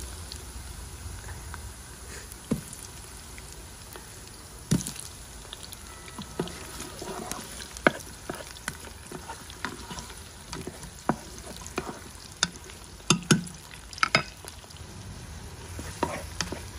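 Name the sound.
onions frying in pan with garlic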